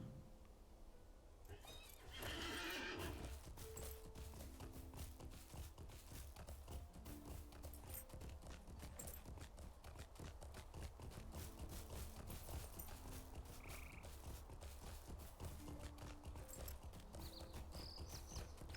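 Horse neighs and hooves clip-clopping in the online game Lord of the Rings Online, a steady walking hoof rhythm with whinnies rising over a dense, constant game soundscape for the whole stretch.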